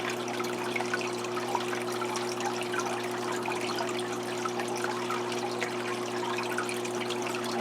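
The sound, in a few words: siphoning aquarium water with open-ended hose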